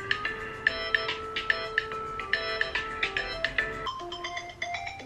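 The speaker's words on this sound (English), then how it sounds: "what ringtone do we want?" A phone ringtone plays a bright, bouncy electronic melody with quick repeated notes, clear and close, with no voices over it.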